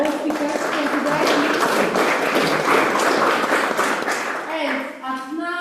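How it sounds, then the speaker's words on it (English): Audience applause for the speakers at the close of a day at an astronomy workshop in Crete, dense clapping under and alongside talk, tapering off near the end. "Applause for all speakers from today."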